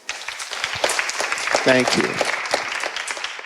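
An audience applauds at a live talk, a diffuse wash of clapping that rises and sustains beneath a speaker's voice.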